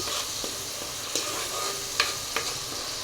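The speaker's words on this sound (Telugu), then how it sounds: "ఇదైతే వేగనిద్దాము. చూడండి, అల్లం వెల్లుల్లిపాయ ఉల్లిపాయ పేస్ట్ అయితే వేగిపోయింది." Ginger, garlic and onion paste frying in a pan for a chicken and cauliflower curry, a steady close sizzle with a few sharp spoon scrapes and clinks against the pan, no voices.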